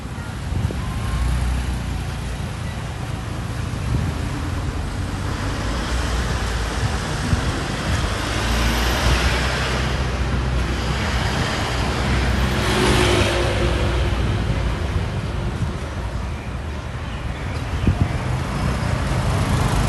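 Riding a motorbike through traffic in Phuket, Thailand: a constant loud rush of wind and engine with road and traffic noise around, swelling briefly as other vehicles pass, with no talk.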